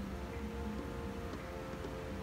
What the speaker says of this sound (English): Please excuse the road noise.